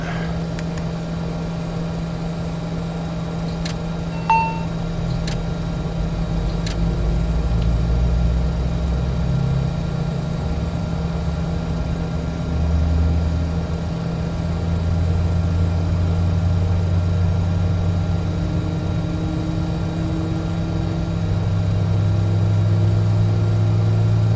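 Engine number 1 of an ERJ-145 jet in FSX winds up as a low, steady whine and rumble that slowly builds and shifts in pitch over a long stretch, with a couple of faint clicks early on and no talking.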